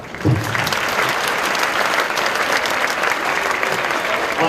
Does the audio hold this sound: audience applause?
yes